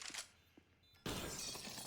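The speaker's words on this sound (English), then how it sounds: "I think he hoped the glass break would stop it" Glass shatters in Counter-Strike: Global Offensive during a Nuke match, a sudden loud crash after a quieter stretch of faint game sounds, followed by a sustained bright burst of breaking noise.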